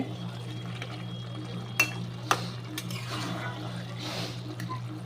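A kadai rattling on the stove while cooking lau chingri, with a few sharp metallic knocks and clatters over a steady low hum of the burner.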